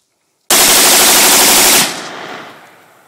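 A Stag Arms .223 Model 2 semi-automatic rifle fires a rapid, very loud burst of shots at close range, lasting over a second before cutting off into a fading echo.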